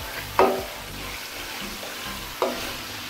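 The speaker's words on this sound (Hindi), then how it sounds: "2 से 3 मिनट बस मैं इसको हल्का सा फ्राई करूंगी" Beef tikka frying lightly in a pan, with stirring scrapes and two brief louder sizzle bursts over a low steady background, no talking.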